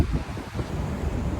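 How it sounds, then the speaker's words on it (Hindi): A strong outdoor wind roars and buffets a microphone in continuous low rumbling gusts, loud and close, with no talking. "इतनी तेज हवा है"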